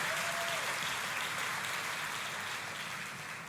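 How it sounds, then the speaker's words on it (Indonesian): A church congregation claps together in steady, dense applause that fills the room and fades slightly toward the end, with no voices over it. "Ayo tepuk tangannya yang paling meriah buat Tuhan yang mengerjakan itu."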